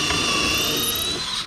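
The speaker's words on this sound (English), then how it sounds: "Trying to drill straight down, perpendicular to my bottom here" A power drill bores into cedar over a sacrificial board while building a small chest bottom, a loud, steady, high-pitched whine held close up for the whole stretch.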